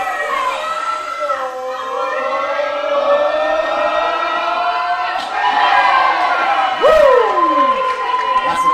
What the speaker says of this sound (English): The crowd, as always, so behind Morris.